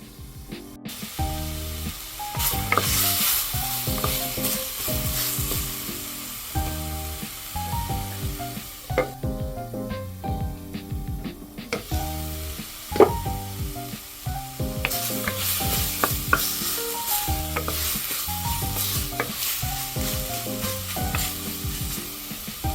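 Tomato and miso being stir-fried in a pan, a loud continuous sizzle with rhythmic scraping and clattering of a spatula stirring, close up, briefly easing before resuming.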